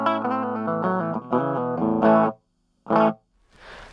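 A Danelectro amp played on its own with an electric guitar, distorted chords ringing loud and close, then a short stab after a pause and a fading hiss.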